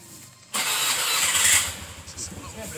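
A motorbike engine in the video game Mabinogi Fantasy Life starts abruptly and settles into a steady mid-pitched idle with a rough, pulsing rumble, fairly close and loud.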